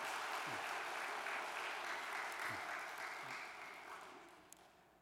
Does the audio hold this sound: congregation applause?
yes